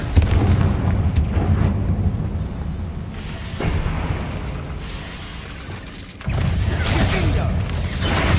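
Booming blasts of the Confringo fire spell in the Hogwarts Legacy video game, loud dense rumbling bursts that swell and fade over a continuous busy game soundscape.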